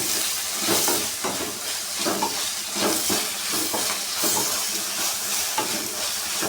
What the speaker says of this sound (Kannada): ಚೆನ್ನಾಗಿ ಫ್ರೈ ಮಾಡ್ಕೊಬೇಕು, ಟೊಮೊಟೊ ಸಾಫ್ಟ್ ಆಗೋವರೆಗೂ